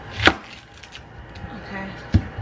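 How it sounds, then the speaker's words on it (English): A knife cutting an onion in half on a cutting board, two distinct chops, one early and one near the end, close and fairly loud, with a quiet pause between. "Actually, I'm just gonna cut half since I'm only going to use half."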